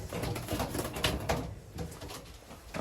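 Pigeons in a breeding loft coo softly and close by, low repeated throaty pulses over a quiet room.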